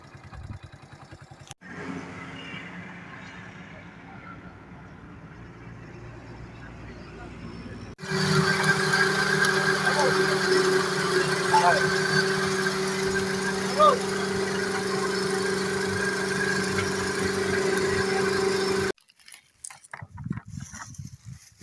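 A motorcycle engine runs steadily in intense summer heat, a loud continuous droning hum with a mechanical knock that sets in partway through and cuts off near the end, preceded by quieter road noise.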